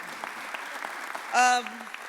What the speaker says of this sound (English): I want you to give her a round of applause